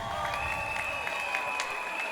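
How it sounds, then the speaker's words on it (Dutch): Audience applause at a Dutch TV show finale honoring the finalists, a steady wash of clapping with scattered sharper claps, moderately faint and continuous throughout. "Een heel groot applaus, want zonder die 17 wordt het vanavond helemaal niks geweest."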